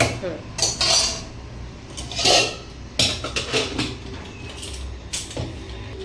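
Metal scraping and clanking in a wok, several irregular rasping strokes with clinks of a utensil loosening stuck masala with a little hot water, close by.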